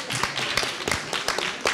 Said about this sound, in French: Moi, je dis on l'applaudit.